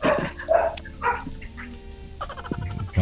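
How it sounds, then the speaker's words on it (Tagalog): A dog barks several times in short, sharp bursts at moderate distance, separated by brief pauses, with quiet background hum and a faint voice near the end. "yung aso ninyo tumatahol siya"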